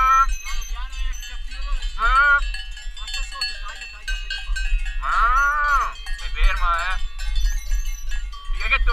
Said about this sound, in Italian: le mucche.